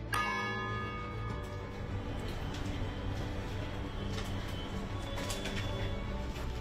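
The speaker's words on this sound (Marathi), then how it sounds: "दर 15 मिनिटांनी या घड्याळातून घंटानाद होतो।" Clock bells of Rajabai Tower in Mumbai ring out in a bright metallic strike that sustains and slowly decays, with faint ticking and light background noise after the opening peal.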